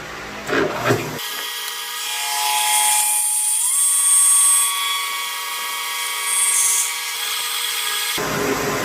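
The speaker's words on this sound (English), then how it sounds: "So we're gonna start milling and see what we get." A milling machine cuts steel uprights for a grinding wheel balancing stand, a steady loud high-pitched cutting whine with ringing tones, held continuously for several seconds after a brief start.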